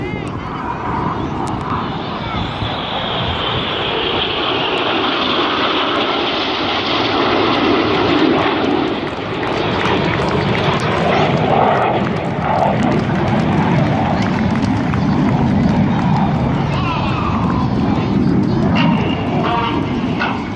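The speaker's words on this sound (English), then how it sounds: "flying his jet only 8 feet away from Red 6, but doing it while he's upside down" Aerobatic display jets fly a corkscrew manoeuvre, one inverted just feet from another, their engines a steady, loud roar that swells and fades slightly throughout, with a commentator's voice running over the noise.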